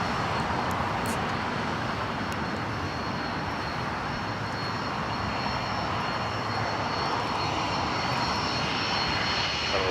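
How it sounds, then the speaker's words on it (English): Cessna Citation business jet coming in to land at Los Angeles International Airport, a loud steady engine roar holding at constant strength throughout, with a faint high whine on top and no voices. "This is Citation 5 coming in from Billings."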